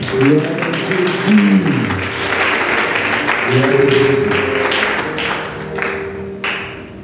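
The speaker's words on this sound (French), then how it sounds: "nous allons acclamer le Seigneur pour votre fidélité" A church congregation at a Christian gathering bursts into sustained applause and acclaim, dense clapping mixed with raised voices and musical tones running through the whole stretch.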